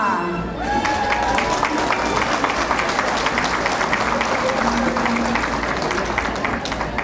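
An audience at a 6th grade elementary school banquet claps to welcome the sixth grade classes, sustained dense applause, loud and steady throughout, with crowd murmur mixed in.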